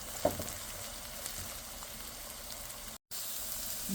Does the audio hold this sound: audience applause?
no